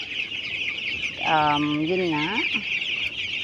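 A crowd of 12-day-old broiler chicks on a poultry farm keeps up a steady, dense, high-pitched chorus throughout, while a person briefly talks over it.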